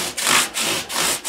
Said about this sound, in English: 400 grit to get rid of the tooling marks of the file